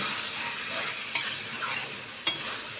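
Dal and banana flower curry with ghee is stirred in a pan over a steady sizzle, with two sharp scraping knocks of the spoon against the pan.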